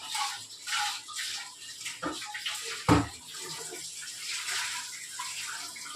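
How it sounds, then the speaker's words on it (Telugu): Water gushes steadily from a household pump tap while a copper pot is washed during evening home cleaning, a continuous splashing stream, fairly close, with one sharp knock partway through and no talk. "పంపు వస్తుంది, వాటర్ పడతావా?"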